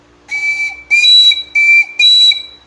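A flame organ pipe sounds in four short, clear whistling tones that alternate between two distinct pitches, loud and close, with brief silences between the blasts.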